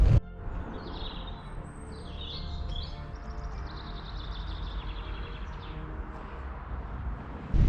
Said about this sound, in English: I've just stopped here for a few moments in this wooded section to listen to the bird song.